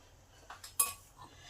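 A spoon clinks and scrapes inside a pot of oats vegetable soup finished with chopped coriander and fried spice, a few soft metallic taps with one sharper clink, close and quiet with no talking.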